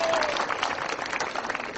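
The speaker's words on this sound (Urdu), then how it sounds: "تالیاں بجائیے ہم دوبارہ." Audience applause at a business presentation, a short loud burst of clapping from a crowd that holds steady briefly.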